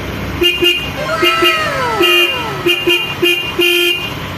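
Repeated short horn toots from a 2024 Yamaha YTX 125 motorcycle beep in quick bursts over its running engine, loud and close, with a rising whine in between.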